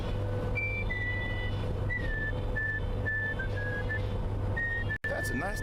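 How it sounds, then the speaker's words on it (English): A person whistles a tune in a series of sustained, clear notes with short pauses, heard over a constant low droning hum, and ends with a brief cutoff and a faint voice. "That's a nice tune. You, whistle real well."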